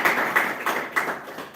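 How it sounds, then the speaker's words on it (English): A small audience at an artist talk in Abuja applauds an artist, with sparse, uneven handclaps arriving in a loose patter of separate claps at close range. "Another round of applause for him."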